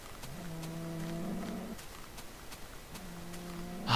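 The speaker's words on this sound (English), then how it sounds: "That's a cow." Minecraft cow from the video game mooing twice, two drawn-out low moos with a gap between them, clear and fairly close over a quiet game background with faint ticking sounds.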